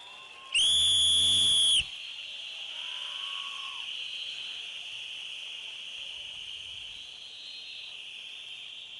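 One loud, shrill whistle blast lasting about a second, followed by a faint steady high hiss and quiet background.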